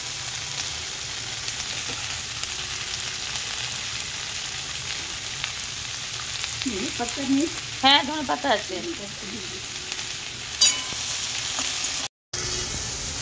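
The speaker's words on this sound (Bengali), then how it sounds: "সবজিগুলো একটু ভাজা ভাজা হয়ে গেছে" Potato and eggplant pieces fry together in a pan with a steady, moderate sizzle throughout, while a voice speaks briefly partway through.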